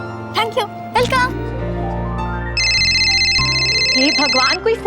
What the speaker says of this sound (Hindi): कोई फोन भी नहीं उठाता इस घर में।